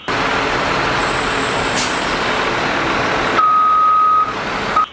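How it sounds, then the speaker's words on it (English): A bulldozer runs with a loud, steady engine rumble, joined by a high tonal beep and then a sustained lower warning tone, with a brief pause before the engine noise returns. "Wow, this is bulldozer. Nice bulldozer, guys."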